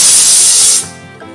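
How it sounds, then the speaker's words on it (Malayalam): Pressure cooker on a Kerala kitchen stove, cooking ash gourd for olan, lets out a loud steady hissing whistle of steam for most of a second, then cuts off abruptly. "ഇതിപ്പോൾ ഒരു വിസിൽ വന്നിട്ടുണ്ട്"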